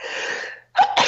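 A single sharp human sneeze close to the microphone, a breathy build-up followed by a quick double burst, with no talking over it.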